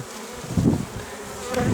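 Dense, loud buzzing of many honeybees, a continuous close drone that swells and fades as insects move around the hive.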